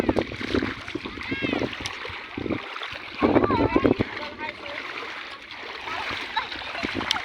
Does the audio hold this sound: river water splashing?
yes